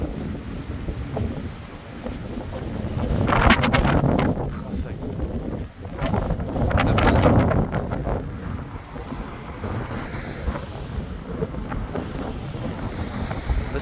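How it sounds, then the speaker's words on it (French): Strong gusts of wind during storm Herminia, roaring through a tree behind, swelling in two loud surges and easing between them, buffeting the microphone with heavy low rumble. "il y a un bruit de vent qui émane de derrière"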